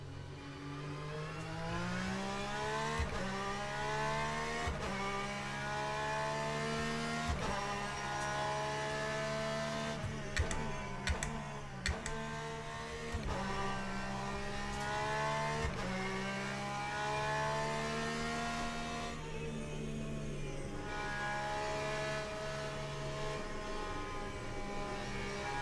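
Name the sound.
Porsche race car engine in Le Mans Ultimate video game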